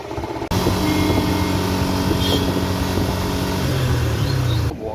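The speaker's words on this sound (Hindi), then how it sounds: "अभी करेंगे इंजन स्टार्ट" A Suzuki Gixxer SF motorcycle engine starts after an engine cleaning treatment, catching abruptly and settling into a loud, close, steady idle that drops away at the end.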